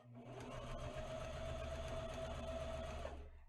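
A sewing machine stitches a fabric mask in one continuous close run, a steady whirring hum with rapid mechanical chatter from start to stop.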